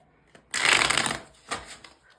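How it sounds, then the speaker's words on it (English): A slippery tarot card deck is shuffled up close, making one loud riffling burst of about a second, followed by a quieter second shuffle. "So the deck is really slippery, so I'm going to be very careful with the shuffling."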